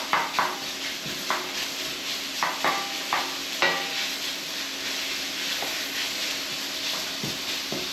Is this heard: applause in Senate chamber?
no